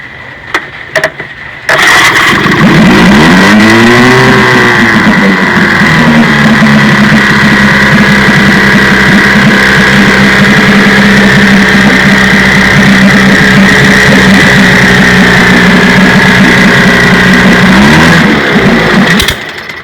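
A 1953 Johnson TN-28 vintage outboard motor starts after carburetor tuning, rising through a brief rev before settling into a loud, steady, buzzing run up close, then cutting off near the end.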